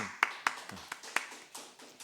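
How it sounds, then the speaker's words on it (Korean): Sparse rhythmic clapping from a church congregation during a Sunday sermon, about eight fairly quiet claps in a loose steady beat, with no talking. "박수 치면 제대로 한번 칠까요? 박수 한번."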